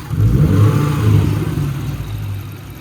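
A Lexus GS460 engine with a new alternator idles low at a steady rumble throughout, with a slight whirring hum and no voices.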